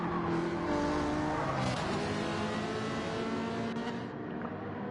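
Race cars in a racing video game roar through the final corner on lap 24, engines loud and sustained with rising and falling revs and a faint tire squeal, several cars close together.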